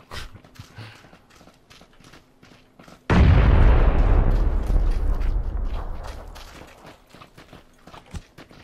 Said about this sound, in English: I'm throwing the nade.